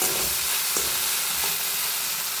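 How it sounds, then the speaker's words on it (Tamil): Cluster beans stir-fried with salt in a pan hiss and sizzle steadily while a spoon scrapes and turns them, with a few sharp clicks against the pan. "இப்போ நம்ம மிக்ஸ் பண்ணிக்கலாம்."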